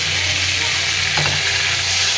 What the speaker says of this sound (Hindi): मेरा ये प्याज हो चुका है ये, अब हम इसमें डाल देंगे थोड़ा सा टमाटर।